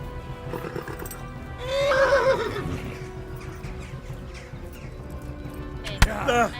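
A horse in the video game Kingdom Come lets out a loud, drawn-out whinny, with hoof clops and game noise around it and a sharp knock near the end.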